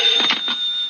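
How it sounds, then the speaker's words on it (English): An old-fashioned telephone bell rings once in a short, bright, near burst inside a 1940s home, heard alone without speech. "the phone's ringing."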